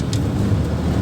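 A van's five-cylinder engine rumbles steadily from inside the cab as it accelerates downhill on a single-track road, a low continuous drone.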